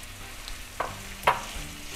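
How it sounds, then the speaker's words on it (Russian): Minced meat tipped into a pan of garlic and onion frying in a blend of oils, giving a steady low sizzle with a couple of sharp stirring clatters near the middle, no voices. "масел обжариваем чеснок и лук. Лук должен стать прозрачным. Отправляем фарш"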